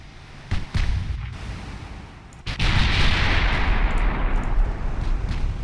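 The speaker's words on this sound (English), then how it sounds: "Shoot the destroyer with the 6-inch guns," Naval 6-inch guns fire at a destroyer in the warship game Ultimate Admiral Dreadnoughts: two quick cracking shots, a pause, then a heavier blast that rolls into sustained booming gunfire.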